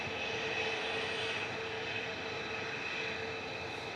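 A Qatar airliner at Manchester Airport, a steady distant jet engine roar that holds even and unbroken, no voices.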